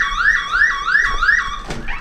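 An electronic alarm sounds in a cave hotel in Matera, Italy, repeating rising sweeping tones four times in a steady rhythm, close and loud, before a brief rustle interrupts.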